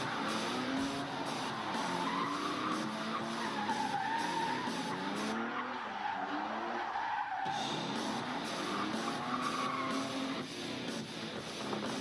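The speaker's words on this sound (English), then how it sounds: "they're fucking drifting" A minivan drifts with its tires skidding and squealing continuously near a lake, a loud sustained screech with engine noise underneath and brief shifts in pitch throughout.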